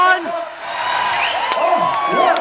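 A crowd at a track cycling event cheers a rider toward the finish line, whoops and shouts rising under a commentator's excited voice for the whole stretch.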